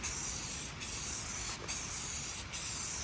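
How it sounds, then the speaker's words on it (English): Flat black spray paint hissing steadily from an aerosol can onto Reflectix window inserts, loud and close, in three long bursts separated by brief, barely-there pauses. "I'm spray painting Reflectix window inserts so I get that nice blackout from the outside"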